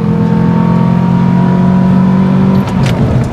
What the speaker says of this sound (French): Mais oui, ça freine fort une petite Twingo.